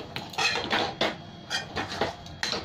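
A metal kadai is shifted aside on a home stove, giving a few quick clanks and scrapes of pan against cookware in a short, irregular burst, close by and fairly loud.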